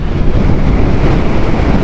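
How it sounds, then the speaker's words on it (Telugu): Strong wind buffets the microphone in open mountain country, a loud, steady broadband roar with constant gusty rumble and no voices. "గట్టిగా ఉంది గాలి"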